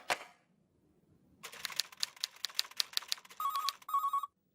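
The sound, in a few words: telephone ringing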